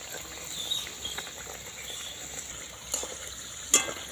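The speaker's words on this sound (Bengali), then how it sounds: "একটুতেই ভাজা হয়ে যাচ্ছে একদম অল্প আঁচে এটা ভেজে নিতে হবে" Saptapuri pitha fry on low heat in oil, giving a faint, steady sizzle with soft crackles and an occasional sharper pop.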